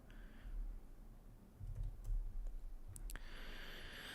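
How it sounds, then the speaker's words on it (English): Computer keyboard typing during a live hangout stream, a few scattered key clicks and short bursts over a faint room hum, close to the microphone with no talking. "Excuse my typing at this time because I have to look over my microphone."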